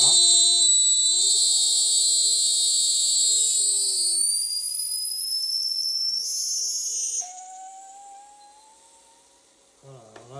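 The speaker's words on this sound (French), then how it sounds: "la valve se déclenche, là" A pressure valve triggers and releases with a loud, sustained high-pitched hiss and whistle that holds for about seven seconds, then drops to a quieter tone and fades near the end.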